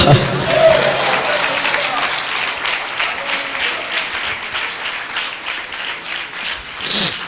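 A church congregation applauds during a sermon, a loud, dense round of clapping that continues with voices over it.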